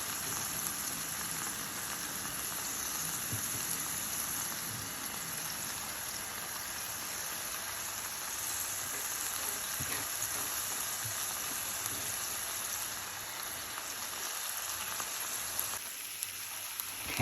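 Salmon fillets sautéing in a covered pan with garlic and cilantro, giving a steady, even sizzle and crackle that continues without break, close and moderately loud, with a few faint knocks near the end.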